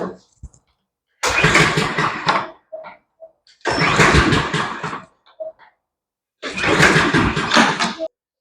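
A Husqvarna AWD riding mower with a no-spark fault is cranked three times, each attempt a loud grinding starter burst of about one to one and a half seconds, separated by near silence and small clicks, with no catch.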